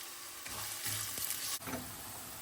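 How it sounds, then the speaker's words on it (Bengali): Onion and garlic fry in a pan with a steady, close hiss of sizzling oil, broken by a few soft stirring scrapes. "পেঁয়াজ আর রসুন একটু ভেজে নেই"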